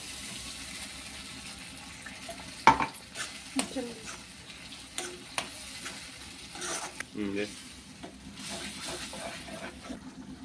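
Faint sizzling of tomato paste with masala and water in a pan for dhaba-style mutton curry, with scattered clinks and scrapes of a spoon stirring, fairly quiet throughout.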